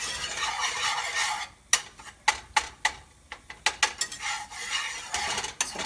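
A whisk scrapes and clicks against a pan while stirring a flour roux, a run of sharp rhythmic taps after a soft sizzling start, close and alone with no talk.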